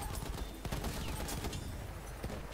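Gunfire in the first-person shooter Battlefield 1 crackles in quick bursts of shots, with sharp reports spread through the clip at a fairly faint level and no talking over it.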